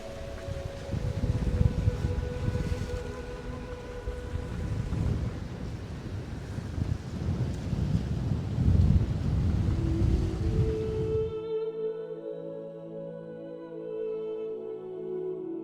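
Strong coastal wind buffets on a walk out to a point by the sea, loud gusty roaring across the microphone for about eleven seconds, then it drops away to quiet tonal sounds.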